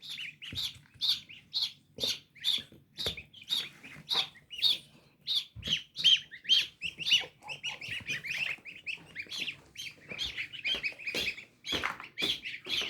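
Newly hatched goslings peep in a rapid run of shrill, close calls, repeating steadily, with no talk over them.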